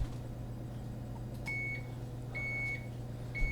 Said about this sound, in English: we got beep, beep, beep going here